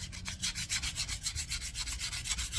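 Steady back-and-forth rubbing of sandpaper on a cork fishing rod handle, rhythmic strokes about five per second, close and fairly quiet, with no voices.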